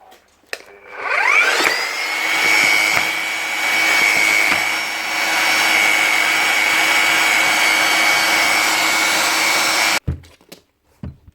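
A Bosch 11318 EVS electric demolition hammer, an American version like the GSH5, spins up and runs steadily for about nine seconds with a loud, even motor whine and no hammering blows, then cuts off abruptly, with no speech over it.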